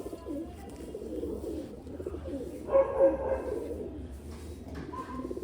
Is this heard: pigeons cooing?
yes